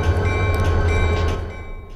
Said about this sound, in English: See the train that's going through right now.